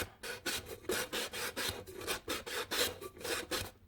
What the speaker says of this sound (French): avec une lime à ongles